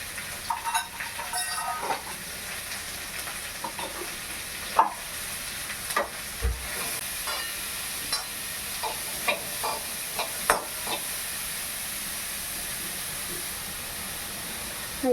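Masala with salt and turmeric frying in a pan until brown, a steady broadband sizzle with repeated stirring scrapes and clicks of a spoon against the pan, continuous and fairly close, no talking.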